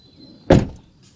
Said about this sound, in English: And I just do the door shut.